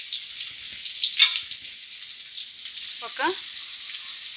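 Green chillies and carrots sizzle steadily in a hot pan, with a bright crackling hiss throughout and a brief spoken word over it.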